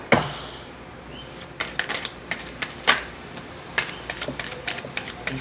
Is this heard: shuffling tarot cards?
yes